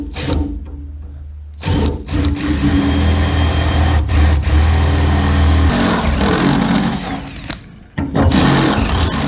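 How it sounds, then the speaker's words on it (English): Power drill boring into the body of a 1930 Model A Coupe, a loud sustained whine with a couple of short stops and restarts, close up and without talk. "Grab my handy dandy drill here"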